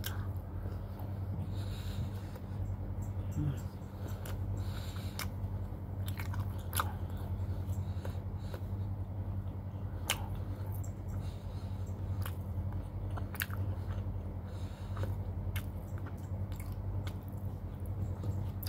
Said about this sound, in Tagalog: Kailangan yung nguyain daw.